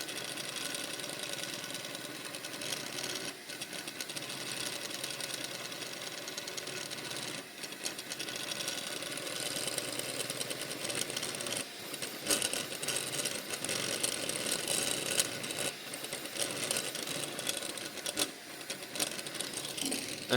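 A 3D printer races through a Benchy print at around 600 mm/s, its motors buzzing and whirring in a continuous, busy mechanical drone with rapid fluctuating tones and occasional louder bursts.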